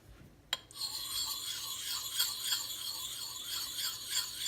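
An axe is sharpened on a Gränsfors Bruk grinding stone, close and quiet, beginning with a single knock and then a steady run of rhythmic rasping strokes of steel scraping across stone.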